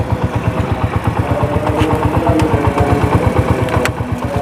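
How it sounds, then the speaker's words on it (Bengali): A motorcycle with a self-start problem idles close by, its engine thumping in a fast, even pulse with no talk over it. "এই জন্য আমি বাইকটাকে স্টার্ট করে নিলাম।"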